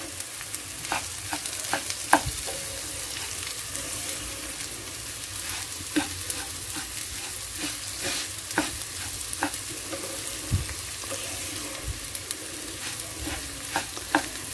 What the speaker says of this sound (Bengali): চালটা যত ভালোভাবে ভুনবেন বা ভাজবেন তত কিন্তু ভাতটা সুন্দর হবে।